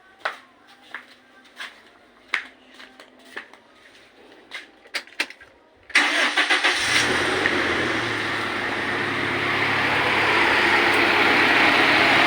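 A Toyota Innova engine with a rough-running complaint is cranked and catches: a few clicks and knocks, then the engine bursts into life and settles into a steady, close, loud idle that continues to the end.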